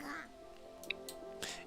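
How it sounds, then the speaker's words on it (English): Duck quacking in a visual novel scene, a short quack sounding over steady background music, moderately quiet with a couple of brief accents. "Hat quacked as though he was trying to cheer Kotori up"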